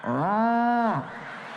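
A comedian imitates a cow mooing with his voice, a single loud, sustained, tonal moo lasting about a second, performed on stage with no talk over it and a quiet pause after.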